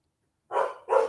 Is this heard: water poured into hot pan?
no